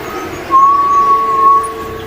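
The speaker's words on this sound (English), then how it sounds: "The only presence felt is a subtle whistle in the distance." A single thin, steady whistle tone holds for about a second, faint and distant-sounding above a low ambient drone in a horror game scene.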